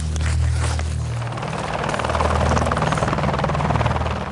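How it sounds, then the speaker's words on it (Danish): Military rescue helicopters approaching for a nighttime pickup, a loud steady rotor drone with low throbbing thump that holds throughout, with no voices. "Et par timers gåtur senere er helikopterne på vej."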